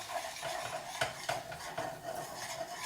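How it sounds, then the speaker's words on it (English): Poutine gravy being stirred in a pot while an ingredient is slowly added, with quick metallic scrapes and clinks of a utensil against the pan over a soft sizzle, close and continuous. "I'm gonna slowly put that in and stir it at the same time"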